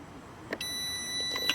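A SUAOKI 2000A jump starter with its clamps connected backwards sounds a high, steady electronic warning tone continuously after a soft click, with faint clatter and background hiss around it.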